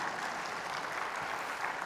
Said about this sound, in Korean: 박수를 치려면 확실히 치고.